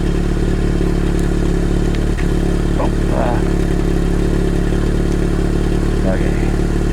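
A car engine idles with a slight stumble, recorded up close by the exhaust, as a loud steady rumble with a few brief hiccups and clatters.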